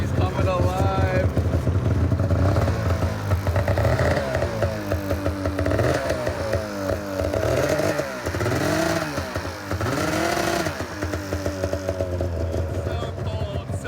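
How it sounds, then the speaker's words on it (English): An engine cold-starting in an extreme blizzard, cranking and catching into a rough, clattering idle that revs up and down, loud and close for the whole stretch while a person talks over it. "This is gonna be a serious cold start."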